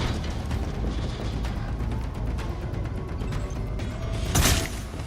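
A bolt trap firing in the Meet Your Maker video game, with repeated mechanical clicks and ratcheting over a steady rumbling bed, ending in a bright, sharp burst.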